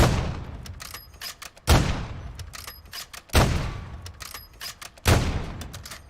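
Victus XMR rifle fired from the hip in Modern Warfare 3: four heavy, booming shots spaced roughly every one and a half to two seconds, each with a loud crack and decaying tail, small clicks and rattles in between.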